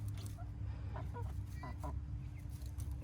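Pet birds kept in an outdoor enclosure give a few soft, short clucks and chirps, faint and scattered over a steady low background hum.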